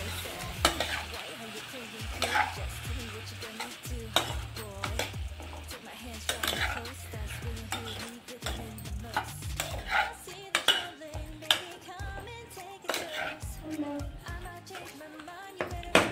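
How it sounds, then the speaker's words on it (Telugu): A brinjal and tomato curry is stirred in a pot, the spoon scraping and clinking against the metal over a steady sizzle, with a few sharper knocks as the lid is handled; no one speaks. "ఇప్పుడు ఒకసారి దీన్ని కలిపేసి మూత పెడదామండి."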